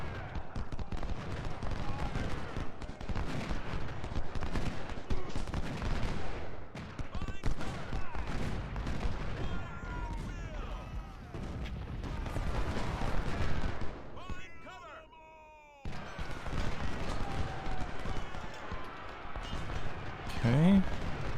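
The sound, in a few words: gunfire and artillery in video game Ultimate General: Civil War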